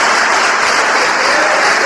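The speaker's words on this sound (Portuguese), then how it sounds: "Dê uma salva de palmas a Jesus." A church congregation breaks into loud, dense applause during a worship service, sustained clapping from many hands filling the whole moment.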